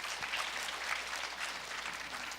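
An audience at a 2018 national dementia management workshop applauds, dense even clapping held at a moderate distance for a couple of seconds, fairly quiet overall.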